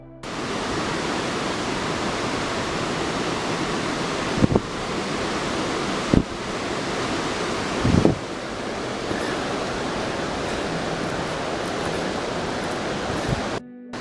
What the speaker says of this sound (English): It's a big waterfall somewhere around here.